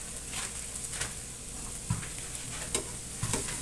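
Tuna grilling on a non-stick grill pan over a gas stove gives a steady, close sizzle with a few soft knocks and scrapes, and no one speaks.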